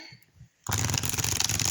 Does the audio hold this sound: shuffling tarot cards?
yes